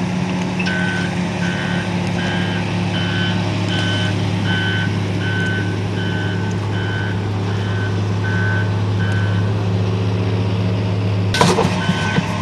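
A truck's reversing alarm beeps steadily in a regular series over a constant engine idle, fairly near, at a flood-control site where an AquaDam is being unloaded, with a brief clatter near the end.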